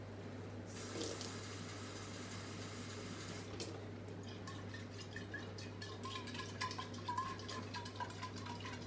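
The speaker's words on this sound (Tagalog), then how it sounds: "dalagyan po natin ng tubig" Water runs steadily into a cooking pan for chicken garlic with oyster sauce, a continuous splashing pour over a constant low hum, with small clinks and drips toward the end; no voices.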